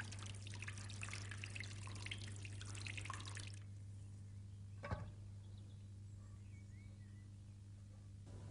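Water trickles and drips inside a spring catchment chamber, a steady faint flow with a single sharper drip midway, the space otherwise quiet and echoing.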